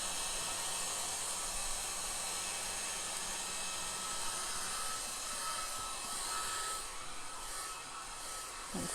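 A hair dryer blows steadily and loudly over a painting in progress during a live painting session, a continuous close whooshing hum that holds without a break and dips slightly near the end.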